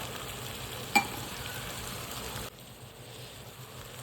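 Peas going into spiced rice in a hot pan, a faint sizzle with a short clink near the start, then quieter stirring as the mix settles.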